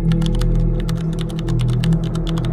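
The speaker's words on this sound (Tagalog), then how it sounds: "may narinig akong tumitipan ng keyboard" Rapid typing on a computer keyboard, close and steady, with clustered key clicks over a low background hum on a quiet, seemingly abandoned office floor.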